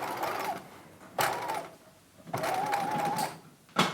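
A sewing machine stitches a circle skirt in short bursts: three close, rattling runs of rapid needle chatter with brief pauses between, the last one just starting, and no talking.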